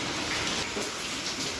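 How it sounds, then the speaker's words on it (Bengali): Heavy rain pours down outside a home, a constant broadband hiss with no gaps, fairly close and steady. "বৃষ্টি হচ্ছে, আজকে তো আর গরম নেই।"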